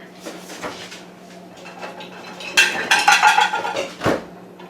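Plates and dishes clatter as they are loaded into a home dishwasher, with ceramic clinks, a sliding rack and a busy burst of clanking near the end, close and fairly loud over a low hum.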